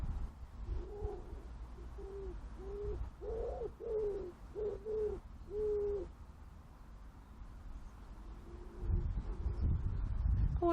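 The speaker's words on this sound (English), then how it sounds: "oh, I hope you heard that pigeon." A pigeon coos in a series of soft, low, rounded calls, repeated rhythmically, then falls silent amid faint outdoor background noise.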